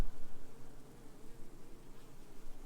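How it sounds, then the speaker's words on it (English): Honey bees buzzing inside an open hive of a newly hived swarm: a close, continuous low drone with a slightly wavering, pulsing level and no other sounds. "the bees are really active down in there"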